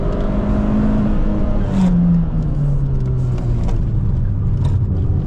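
A Peugeot 206 engine revs hard while accelerating, its pitch climbing steadily and then dropping at a gear change before rising again, loud and close with no talk.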